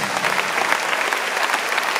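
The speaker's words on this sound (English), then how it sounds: "Clap your hands to the Lord Jesus." A church congregation clapping hands together, a dense steady burst of many overlapping claps sustained throughout at moderate distance.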